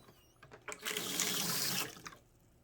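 Water from the tank of a VINGLI portable 5.3-gallon flushing toilet rushes into the bowl when the valve is pulled, a broad steady gush building and then stopping after about a second, near and alone with no talk.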